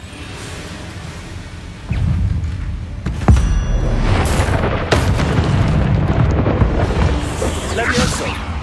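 Confringo blasting spell explosions in the game Hogwarts Legacy on Xbox Series X: a sharp whooshing burst followed by rolling, booming blasts and crackling debris, loud and close, with a voice casting spells.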